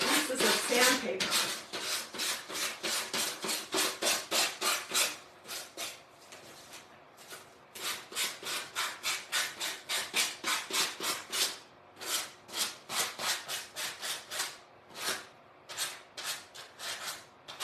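Sandpaper rubs back and forth across a wooden board in quick, even strokes, a rhythmic rasping that pauses briefly between bursts, fairly quiet and close.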